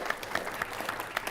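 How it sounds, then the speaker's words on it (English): Audience applause for panelists at a symposium on artificial intelligence in mass communication, a steady wash of many hands clapping at moderate level with a few sharper claps standing out. "Can I get another round of applause for our wonderful panelists?"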